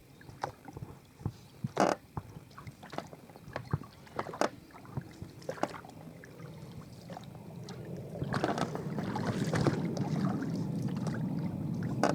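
A small rowboat on a lake during a fishing trip for crucian carp, perch and rudd, with oar splashes and knocks at first, then a steadily rising wash of water and hull noise as the crossing speeds up; no talking.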